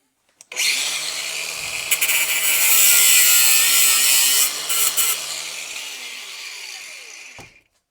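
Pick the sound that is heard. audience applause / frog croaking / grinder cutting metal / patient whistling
grinder cutting metal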